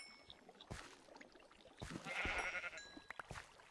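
Sheep bleating in Minecraft, several short bleats close by, alone over quiet game sounds with a few soft thuds.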